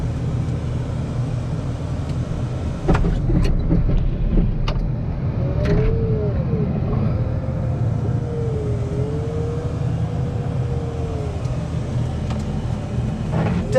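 A commercial snow plow truck clears and stacks snow in a Chicago blizzard, with a steady loud engine drone and a scraping rumble, plus a few knocks and a rising and falling whine, without any talk.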